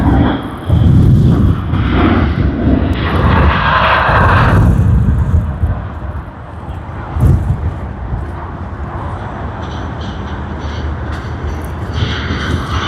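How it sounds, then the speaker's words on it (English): A Xiamen Air airliner roars loudly and close while arriving on runway 34 left at Sydney Airport, holding a heavy engine rumble throughout before it eases slightly, with no talk over it. "Sydney to Xiamen on Xiamen Air, coming in from runway 34 left."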